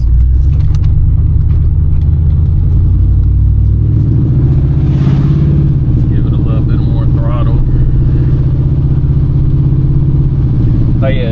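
Engine of a 1996 Chevrolet Impala SS droning steadily as the car drives, a loud, constant low rumble filling the cabin while someone talks over it.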